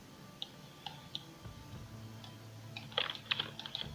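Keyboard keys tapped for a Shift D shortcut while modeling in Blender: a few isolated clicks early on, then a denser cluster of sharp taps near the end, fairly close and soft over quiet room tone.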